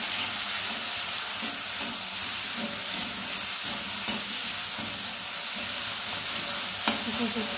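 Potatoes and bitter gourd frying in oil in a pan, a dense steady hiss of sizzling with occasional stirring scrapes and small clicks, close and even.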